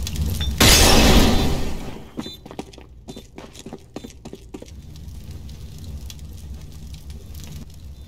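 CS:GO fire grenade in a competitive match: a loud whooshing burst of flame flares up, then crackles with sharp snaps and pops before settling into a quieter ongoing burn.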